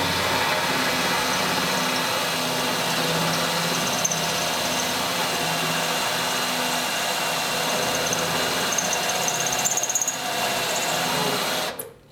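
A power drill runs continuously at steady speed, boring through a body panel on a 1966 coupe being converted to a fastback, loud and close before cutting off abruptly at the end.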